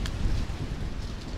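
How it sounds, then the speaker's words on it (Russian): Wind blows outdoors at a garden plot in Germany after a hurricane, a steady, close, rumbling rush of buffeting noise on the microphone with no voices. "О, ветер."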